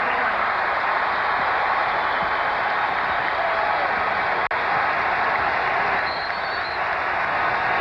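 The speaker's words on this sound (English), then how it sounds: "That wasn't the first Noel, but it's sure the one that got the crowd alive" Arena crowd at a North Carolina vs NC State college basketball game roaring after a three-pointer, a loud dense sustained cheer that holds steady throughout.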